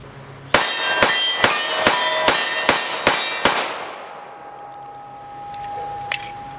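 A Springfield Armory 1911 Emissary pistol fires 230 grain ball ammunition at a range: eight loud, sharp shots in an even, quick rhythm, each with a ringing tail, then a long fading echo and a faint later clink.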